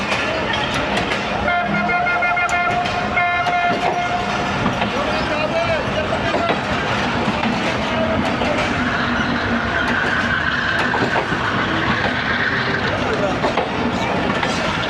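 A passenger express train pulls out of Mehrabpur station with a loud, steady rumble, rattling carriages and a brief horn-like tone, while a person talks over the noise.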